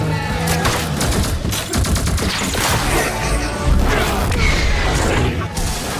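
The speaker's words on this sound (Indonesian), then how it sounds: "tiba-tiba ada suatu tembakan mengenai pesawat dari Maya" Dense bursts of gunfire from the film The Adam crackle and boom amid a chaotic, loud action mix, shots striking a plane from within a forest, with rapid volleys and explosions layered over music and effects.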